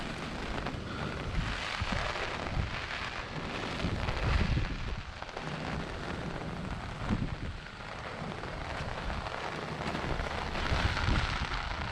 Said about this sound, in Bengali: এদিকে তো দেখাইতে পারছি না কারণ বৃষ্টিটা এদিক থেকে আসতেছে।